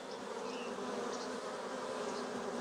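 Honeybees in a hive that has been queenless for about eight days give off a steady, dense, even hum, close and continuous, with no voices.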